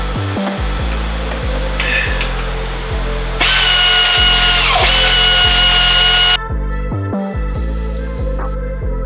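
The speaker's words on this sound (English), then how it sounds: "I'm gonna use my ratchet tool just to take this off really quick." A ratchet tool removes the pulley from a Toyota 2JZ engine while billet aluminum pulleys are being fitted, a loud whirring buzz that repeats in short, regular pulses close by.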